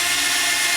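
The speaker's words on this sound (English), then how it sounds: "First thing, drill some holes." An electric drill bores drainage holes into a barrel, a steady loud high-pitched whine running without a break throughout.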